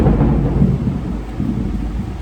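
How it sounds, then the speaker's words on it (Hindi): A thunderstorm rages outside with heavy rain, heard from indoors as a loud, continuous low rumble of thunder over a dense wash of rainfall. "बिकॉज बारिश हो रही है बाहर"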